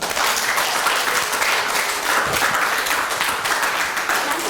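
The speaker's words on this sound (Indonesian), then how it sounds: "berikan aplaus dulu" A classroom full of students applauding, dense steady clapping held at the same level for several seconds, close and loud, with no talking.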